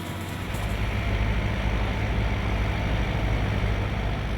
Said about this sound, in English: What you're looking at coming towards you is the harvester. It's pulled with a tractor